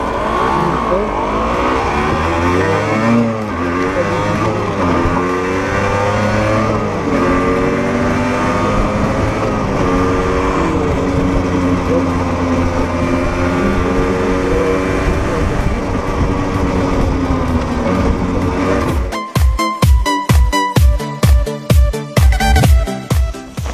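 A 2013 Yamaha TZR50 two-stroke motorcycle engine runs loud and close, rising and falling through revs for about nineteen seconds before a series of sharp rhythmic bursts at the end; faint talk sits underneath.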